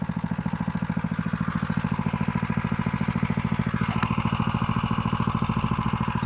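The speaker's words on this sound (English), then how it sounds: "So we back that off, let the engine cool down just a little bit." A small engine idles close by with a rapid, even chugging beat that holds steady throughout, with a faint click partway through; the engine is not switched off.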